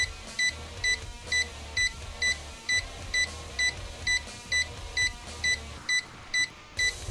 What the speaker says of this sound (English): I cannot hear him because the beeping is insane.